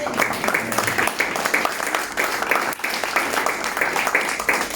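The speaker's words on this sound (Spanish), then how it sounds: "¿Quién le puede aplaudir?" A church congregation applauds throughout in a dense, sustained wash of clapping with slight swells and dips. Faint voices sit under the clapping.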